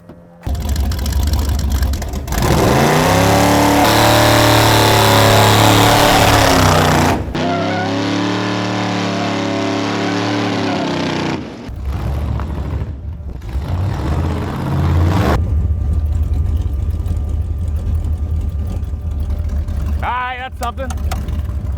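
A V8-swapped Mazda RX-7 roars at sustained high revs through a smoky burnout, loud and close, with a brief drop in pitch midway before climbing again and easing off near the end.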